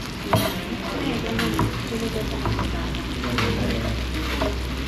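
Dinuguan being stirred in a pan after calamansi is added: a steady close sizzle with irregular scraping and clinking strokes throughout.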